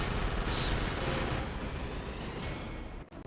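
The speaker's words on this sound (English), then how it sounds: "Shoot the target!" Rapid, continuous arcade gunfire from a light-gun shooting game, Jurassic Park Arcade, loud and dense throughout with no pauses until a brief dropout near the end.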